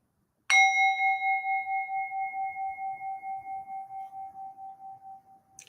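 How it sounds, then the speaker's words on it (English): A Tibetan singing bowl is struck once in a quiet room and rings with a clear, sustained metallic tone. The ring pulses gently as it slowly fades over several seconds, with no other sound around it. "you're gonna hear me ding the Tibetan bowl"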